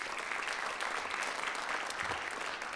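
Broad, even applause from a theater audience at a township address, thanking the event's sponsors, a continuous hiss of many hands clapping at moderate distance with no voices on top.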